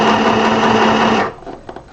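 Sewing machine stitching a fabric bonnet, a loud, close, steady mechanical whir for over a second that cuts off into a few soft clicks and handling sounds.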